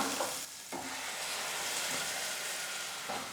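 Ground masala paste sizzles and hisses in a pan with cooked okra, producing a continuous bright frying hiss with soft stirring scrapes, close and fairly loud.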